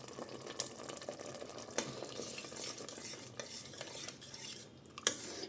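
Tomato paneer pulao with garam masala cooking in a pot, a soft simmering sizzle with repeated utensil scrapes and clinks against the pot, fairly quiet and close, with no talking.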